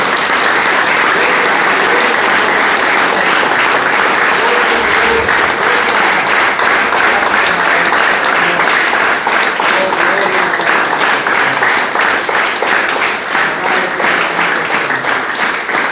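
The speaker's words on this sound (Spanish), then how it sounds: "Le dan un aplauso al Santo de Israel" A church congregation at a preaching service breaks into long, loud, sustained applause, a dense roar of many hands that holds at full level for the whole stretch with faint crowd voices underneath.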